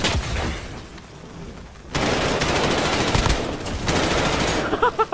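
Loud, close automatic gunfire in the battle royale game Warzone, with sustained bursts, a brief lull, and renewed rapid fire, with a few sharp individual shots at the end.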